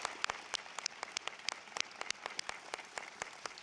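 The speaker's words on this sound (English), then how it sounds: "Please give yourself a round of applause." Scattered applause from an audience at a 2024 Beloit College commencement, irregular distinct claps that sound fairly distant and quiet rather than a dense ovation.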